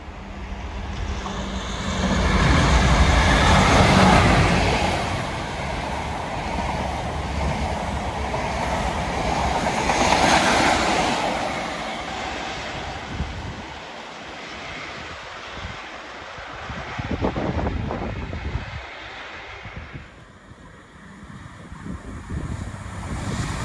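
Passenger train on the Derby to Lowestoft service passing at Attenborough with a loud rushing roar that peaks early, then a long rumble and rattle of wheels fading into the distance.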